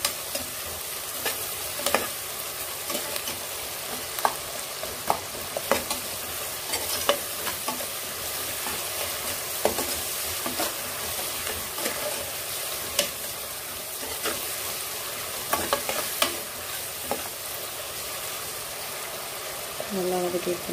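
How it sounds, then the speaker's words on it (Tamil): Chopped onions with spices sauté in a pot for biryani, a steady sizzle broken by repeated scraping stirs of a spoon, with a voice talking over the cooking. "நல்லா கண்ணாடி பதத்தில் வதக்கிடுங்க."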